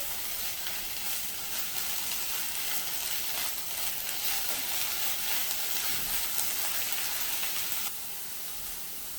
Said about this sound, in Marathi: इथे आता पाव चमच्यापेक्षा पण थोडं तेल मी घातलेलं आहे आणि आपली आपल्याला या शेंगा थोड्याशा परतून घ्यायच्या आहेत तीन ते चार मिनटं मीडियम फ्लेमवर